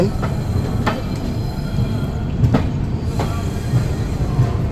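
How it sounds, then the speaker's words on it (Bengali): The Rupasi Bangla Express rolls into Purulia railway station, its wheels clattering over rail joints with occasional metallic squeals, close and steady throughout. "ঢুকলো ট্রেন পুরুলিয়া রেলওয়ে স্টেশনে"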